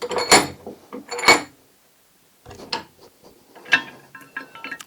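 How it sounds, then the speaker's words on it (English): A wheel cylinder is handled and clamped in a vise, giving sharp metallic clanks and ratcheting clicks up close, two loud knocks early, then a silent gap and lighter scattered tapping and scraping. "Turn it over, put that in the vise."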